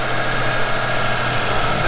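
A Toyota 4Runner engine idling after a throttle position sensor replacement, a steady, loud, close drone with an even hum and no talking.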